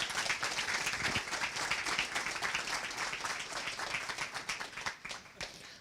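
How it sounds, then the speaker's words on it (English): Audience applause for a guest at a Q&A event, a full round of many hands clapping that stays dense for several seconds, then thins into scattered separate claps as it dies away. "Let's have a big round of applause."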